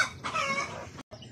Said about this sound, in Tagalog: Pasensya na sa mga maingay nating manok.